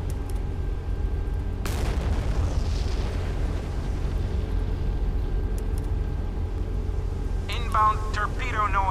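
A warship deck gun in the Modern Warship game, here aboard the USS Zumwalt, fires one heavy boom over a low engine rumble, the blast decaying over several seconds before a brief electronic alert chirps.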